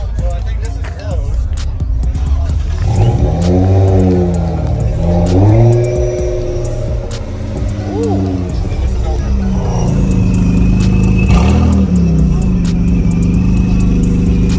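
A Dodge Challenger with a Ripp-supercharged V6 revs several times close up, each blip climbing in pitch and then falling back, with a loud, steady rumble underneath.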